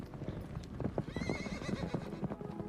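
Horses neigh and whinny over steady clip-clop of hooves, a busy, close, continuous scene with several whinnies rising above the hoofbeats and no talk.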